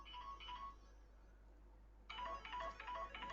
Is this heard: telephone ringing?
yes